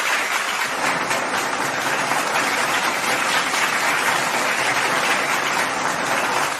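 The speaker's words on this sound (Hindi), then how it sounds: "अली मुर्तुजा के लिए भी जोरदार क्लैप हो जाए" A classroom audience gives a student a steady, dense burst of clapping from many hands. It holds at an even loudness and then stops abruptly at the end, with no voices over it.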